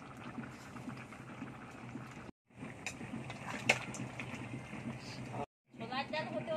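Chana dal bubbles and gurgles at a steady boil in a pot, a close, continuous burbling broken by two brief cuts, with someone speaking over it.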